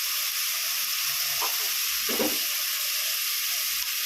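Ginger garlic paste sizzling in hot oil in a pan for mutton biryani, a steady close hiss with a couple of brief stirring clatters.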